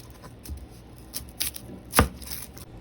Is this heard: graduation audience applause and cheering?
no